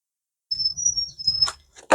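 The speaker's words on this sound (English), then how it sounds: "you can also hear the birds" A bird gives a single high, thin whistling call outdoors near a highway, sustained for about a second, with faint low rumble and a few brief knocks after it.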